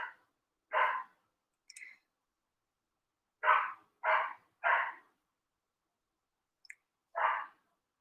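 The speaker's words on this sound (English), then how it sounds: "Sorry about the barking." A dog barks in short separate bursts, six or seven sharp barks with uneven gaps, some in quick succession, heard alone against a silent background.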